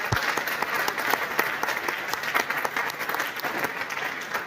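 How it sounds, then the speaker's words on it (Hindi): Audience at a success-story talk gives sustained, loud applause for the speaker's parents: dense steady clapping from a large crowd throughout, with no talking over it. "ये मेरे मदर फादर हैं, एक बार चाहूंगा इनके लिए जोरदार ताली बजा सकते हैं।"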